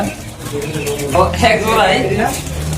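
Several pigeons coo inside a loft, a steady murmur of soft calls close by, while someone talks over them the whole time.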